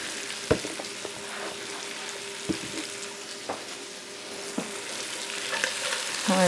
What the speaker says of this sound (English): So get that melted, toss your sausage in it, and then in goes our potatoes.